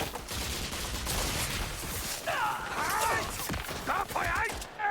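Gunfire in Indiana Jones and the Great Circle, a dense rattling burst of rapid shots running throughout, with shouted voices breaking in over the shooting.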